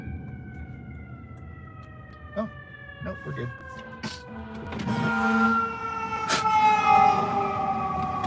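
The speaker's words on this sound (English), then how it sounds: "There's an ambulance behind me." An ambulance siren wails steadily behind a person talking outdoors, its sweeping tone rising and swelling in loudness as the vehicle draws nearer, with traffic rumble underneath and a few short spoken words.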